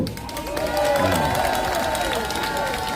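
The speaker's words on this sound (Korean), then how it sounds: "박수 한번 주십시오" Brief applause with cheering voices from a gathered crowd outside a police station, clapping and shouts mixed together at close range.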